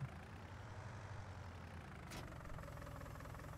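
A tractor engine in Farming Simulator 19 drones at a steady low idle, a continuous rough rumble with a faint mechanical whine, quiet and even, alone without talk.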